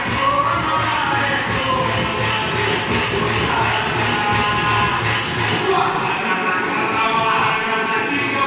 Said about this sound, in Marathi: एकदा हात वरती, जोरदार टाळी देवाभाऊंसाठी.